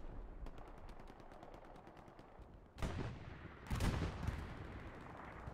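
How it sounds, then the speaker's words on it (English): Rapid bursts of machine-gun fire and heavy explosions in an online match of the World War II shooter Hell Let Loose, a steady rattle of gunfire punctuated by two loud blasts, no talking. "Lots of explosions here."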